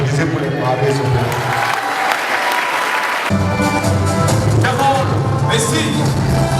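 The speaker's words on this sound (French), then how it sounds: "Applaudissez pour les mariés" Guests at a wedding party applaud for the newlyweds, steady clapping that continues under loud music and voices throughout.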